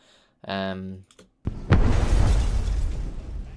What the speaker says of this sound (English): you're low passing your explosion sound, but then you have very high close glass shards